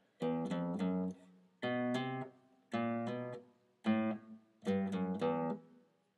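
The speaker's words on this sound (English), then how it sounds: "play the second half of the bass line without the melody" A bass guitar plays a plucked bass line in short phrases of several notes each, separated by brief pauses.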